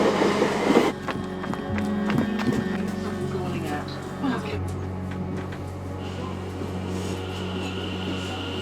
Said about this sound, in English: I found the train.